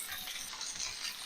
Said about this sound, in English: I'm just searing these for, I don't know, about maybe 1 minute each side